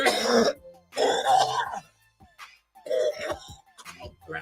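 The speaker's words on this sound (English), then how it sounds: "I always have these heavy coughs." A person coughs heavily and clears their throat in several harsh, rough bursts separated by short pauses, close to the microphone.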